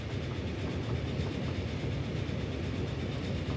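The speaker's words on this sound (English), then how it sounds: "He's on the train." A passenger train rolls steadily in the Transport Fever simulation game, a continuous rumbling drone with faint rhythmic clatter and no talking.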